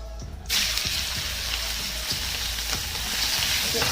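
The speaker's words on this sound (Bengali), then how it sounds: "তেলটা গরম হয়ে গেছে, দিয়ে দেবো চিংড়ি মাছগুলো।" Prawns hit hot oil for a shallow fry, bursting into a loud, steady sizzle after a brief quiet start, with faint crackles and pops continuing throughout.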